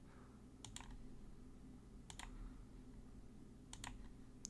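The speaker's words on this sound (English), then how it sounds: "I hate typing this out." Short bursts of computer keyboard typing come in three separate clusters of quick keystrokes, fairly close and quiet over a steady low background hum, with no talking.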